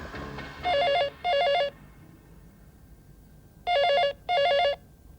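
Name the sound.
telephone ringing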